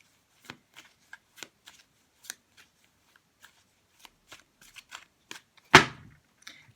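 Everyday Witch Tarot cards being shuffled, a run of soft, quick riffling flicks ending in one sharp, louder snap of the deck close to the microphone.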